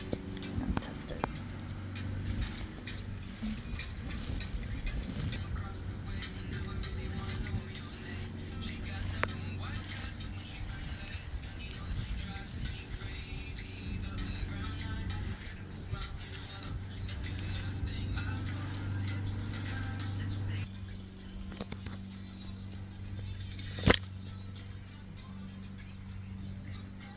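A K'nex Pride roller coaster runs through a test lap, its chain lift and plastic cars producing a steady low rumble and clatter with faint ticking, while soft whispering is heard throughout and a sharp knock lands near the end.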